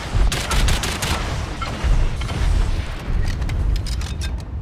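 Gunfire in the video game Evolve Legacy, a loud continuous barrage of rapid shots with heavy low booms, sustained across the whole moment without talk.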